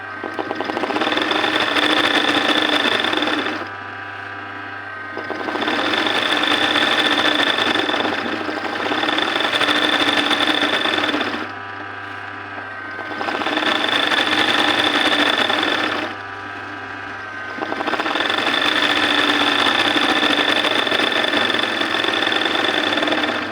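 An embroidery sewing machine stitches in four long, steady bursts with brief pauses between them, its motor whirring loudly and evenly throughout, with no talking.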